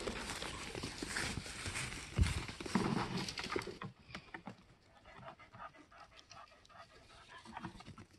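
Heavy, rapid panting from an animal on a farm near goats, close and loud at first, then fainter, with footsteps and rustling moving around it.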